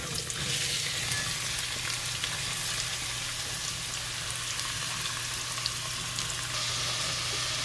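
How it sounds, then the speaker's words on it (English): Clam chowder ingredients sizzle and are stirred together in a pot over medium heat, with a dense, even frying hiss running throughout, close and continuous, with no talking. "on a medium heat, we combine all those things together and we just mix them"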